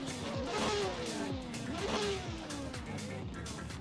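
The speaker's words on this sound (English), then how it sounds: "We are hearing engines." Drift car engines rev at the start line of an ESDA 2024 Asia Pacific regional drifting event, including an FD RX-7, a loud continuous roar with rising revs over crowd noise.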